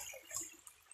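Fresh mountain water flows in a quiet, steady trickle, with soft drips and gurgles over about a second.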